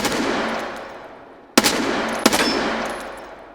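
Automatic gunfire inside a large room in Escape from Tarkov, a long loud burst followed by two sharp renewed volleys with a faint echoing tail, no voices.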